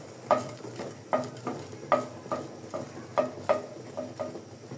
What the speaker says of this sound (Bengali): মরিচগুলো ভাজা হয়ে গিয়েছে, এখন আমি মরিচগুলো তুলে নিব।